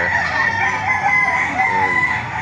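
Roosters crow loudly and chickens cluck close by at an early-morning poultry auction market in Lipa, with the calls overlapping continuously and no speech.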